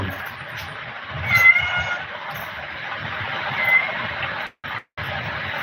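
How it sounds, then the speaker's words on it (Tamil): A cat meows twice in drawn-out calls, each standing out over a steady background hiss and low rumble, with a brief dropout near the end. "என்ன அது பூனை கத்துது"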